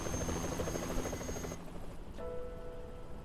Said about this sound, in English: Why do you got my daughter on a helicopter?